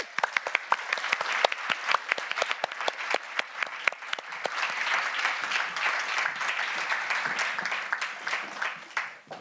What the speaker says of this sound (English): let's have a massive round of applause and welcome onto the stage our debaters